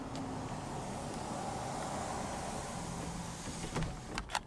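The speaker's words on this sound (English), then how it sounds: "and then also your power sunroof controls. It is one-touch auto." Power sunroof in a 2017 Honda Accord Touring sliding open with one-touch auto, a steady low motor whir inside the cabin ending in a few faint clicks and thumps.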